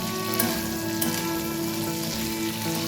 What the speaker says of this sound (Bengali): এইভাবেই ঢাকা দিয়ে দিয়ে এটাকে ভেজে নেব।